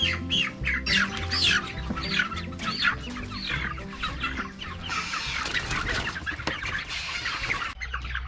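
Meat chickens squawk and cluck loudly in a flurry of overlapping calls, close by, while being moved out to pasture, with a busier, more frantic stretch toward the end.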